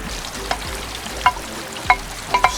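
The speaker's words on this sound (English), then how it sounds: "Sizzle, sizzle. Let that cook a little bit first." Bacon fat and vegetables fry in a hot pan with a steady, close sizzle broken by a few sharp pops and crackles.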